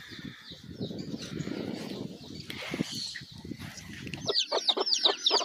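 Penned hens on a rural farm clucking and squawking in a busy cluster, with low murmuring flock noise at first, then sharper, louder bird calls near the end.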